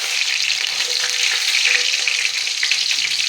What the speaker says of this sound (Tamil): எண்ணெய் சூடானதும் கடுகு 1/4 ஸ்பூன், கடுகு பொரிஞ்சதும் கருவேப்பிலை